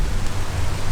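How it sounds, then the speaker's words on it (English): Outdoor rain, a dense, steady hiss of falling drops over a low rumble, loud and close for a brief moment. "it's starting to rain. Like even more."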